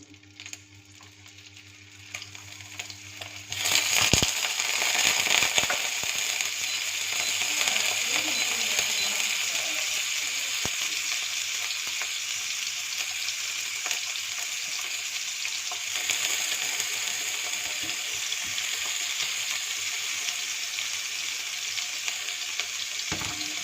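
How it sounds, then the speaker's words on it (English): Beef tongue frying in melted ghee butter, a loud, steady sizzle that starts abruptly and continues close-up, with faint clinks and stirring noises. "Here is the tongue that is frying, and it's looking nice and brown."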